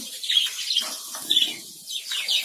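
Small budgerigars flap their wings in quick, repeated bursts close by as they dart from side to side in a colony, mixed with faint high chirps.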